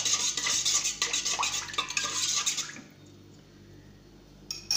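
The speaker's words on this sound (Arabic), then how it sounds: "نحركو كلش مع بعضها" Liquid ingredients for pide dough are stirred together in a bowl, producing quick clinking and swishing strokes up close for about three seconds, then near-silence and a brief final clink.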